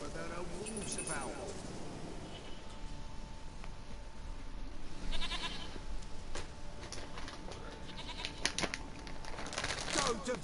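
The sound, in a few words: goat bleating in video game The Witcher 3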